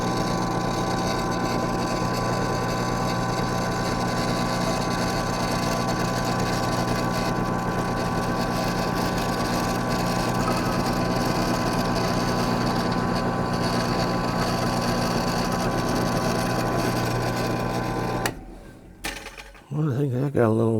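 A drill runs continuously and loud for about eighteen seconds, boring holes in the enclosure hardware for an ARRL EFHW 49:1 balun, with a steady motor whine that then stops abruptly, leaving brief handling clatter.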